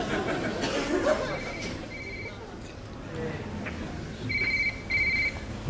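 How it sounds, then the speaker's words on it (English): A telephone in a 1985 Royal Institution Christmas Lecture hall rings with short electronic trills, two sets early and two louder ones near the end, over audience murmur and some chuckling. "Find the phone under your seat there that's ringing."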